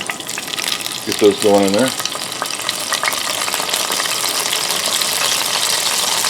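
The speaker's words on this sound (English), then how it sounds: "I'm going to go ahead and add in the potatoes" Potatoes sizzle and crackle steadily in a hot pan with small onion bits, a continuous frying hiss that runs through the whole stretch while someone speaks briefly near the start.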